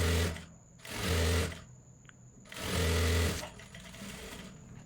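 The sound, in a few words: sewing machine stitching the side seam of a kids' jumpsuit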